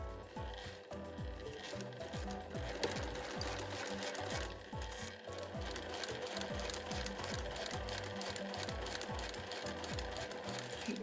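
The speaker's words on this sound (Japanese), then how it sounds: "7mm で縫います" A sewing machine runs steadily, stitching a 7 mm seam with a fast, even mechanical clatter that continues without a break, close and moderately quiet.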